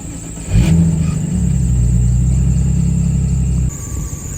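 A BMW E46 M3 starts up and is moved, its engine catching with a loud burst and then holding a steady, close idle rumble before the tone drops suddenly near the end.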